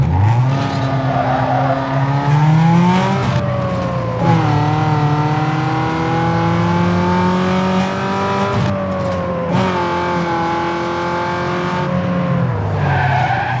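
Racing car engines roar and rev continuously in the Need for Speed video game, with pitch rising and dropping through gear shifts and tires skidding, loud and steady with no talking.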